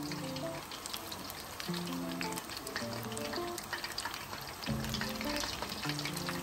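Chicken pieces for sweet and sour chicken fry in oil over medium heat with a continuous crackling sizzle that holds steady throughout, with no talk.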